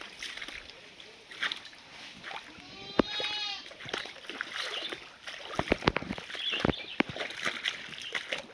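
Goats in a forest beside hillside streams, with a single wavering bleat standing out briefly amid scattered clicks, knocks and splashy rustling, fairly faint, with rain threatening.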